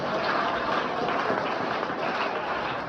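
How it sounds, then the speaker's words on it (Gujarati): Students applauding loudly in a school classroom, a dense, even burst of many hands clapping together that holds steady without a break. "એકવાર જોરદાર તાળીઓ થઈ જાય વિદ્યાર્થીઓ માટે."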